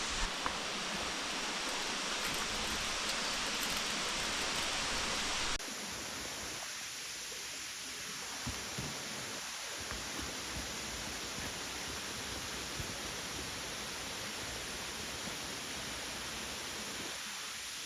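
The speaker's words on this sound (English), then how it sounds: "Made it to the waterfall." The waterfall at the end of Maui's Pipiwai Trail roars as a constant broadband rush with no voices. It is louder in the opening seconds, then continues slightly softer and more distant after an abrupt drop.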